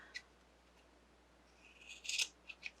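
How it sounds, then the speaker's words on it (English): Scissors trimming the loose edges of yarn, a few crisp close snips, one early and a quick cluster of sharper cuts near the end, quiet and with no talk. "you can just get a pair of scissors"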